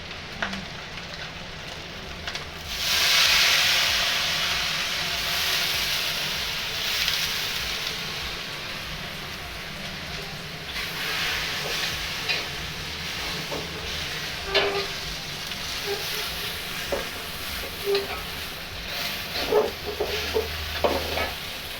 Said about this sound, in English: we're cooking it on high heat, and that's how stir fry is supposed to be